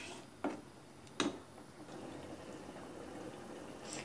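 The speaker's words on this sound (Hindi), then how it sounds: "देखिए कितने अच्छे से सब्जी में उबाल आ गया है ग्रेवी में" Jackfruit and potato curry gravy boils in a pan over a high gas flame, giving a faint, steady low bubbling with a couple of sharp clicks and no talk.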